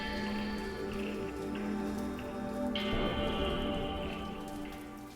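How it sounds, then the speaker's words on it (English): Steady rain pattering onto a neon-streaked alley, a dense continuous hiss of drops with a few brighter splashes, moderately loud and unbroken, with no voices over it. "the sound of the rain falling on the neon-streaked alley"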